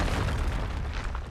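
In Hogwarts Legacy, a loud, close Confringo spell blast booms and rumbles, bursting and then fading slightly across a brief stretch.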